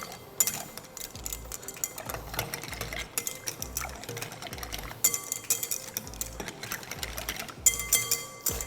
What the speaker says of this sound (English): So just going to vigorously whisk everything really well together.